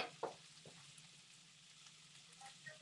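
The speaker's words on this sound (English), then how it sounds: "I'm just stirring it around, mixing everything like, yeah, like a wok or something." Black pudding and bacon frying in a pan, a soft steady sizzle with a few light scrapes and clinks of stirring, close and quiet, no voices.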